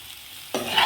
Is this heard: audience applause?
no